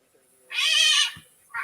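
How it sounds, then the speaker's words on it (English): A cat gives one drawn-out, fairly loud meow up close, with a short second cry starting just after it. "but I'll tell you, that was a cat"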